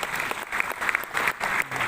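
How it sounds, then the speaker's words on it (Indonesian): An audience at a university graduation ceremony gives a brief burst of dense, lively applause. "Kita beri tepuk tangan."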